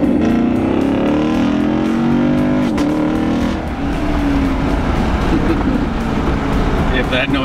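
A 2016 Chevrolet Camaro SS V8 accelerates hard, its loud, close engine note climbing in pitch, dipping at a gear change and climbing again, while someone talks over it.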